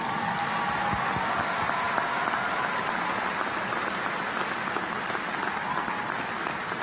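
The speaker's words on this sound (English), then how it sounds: "Let's give them a round of applause." A commencement audience at OTC breaks into sustained applause from a large crowd, a dense steady wash of clapping that holds at an even level throughout with no one speaking.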